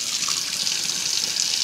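Hot tap water pours steadily into a kitchen sink while hamburger grease is drained from a pan, a loud, even hiss of running water throughout.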